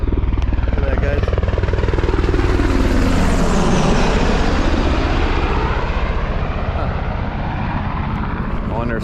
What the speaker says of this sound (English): I wonder if somebody's getting airlifted out of here or something.